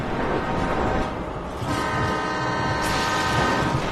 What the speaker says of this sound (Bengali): আরেকটা ট্রেন আসছে